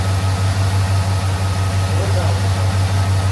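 Chevrolet Silverado Cateye truck fitted with long tube headers idles steadily, a deep, even rumble holding constant and close throughout with no revving.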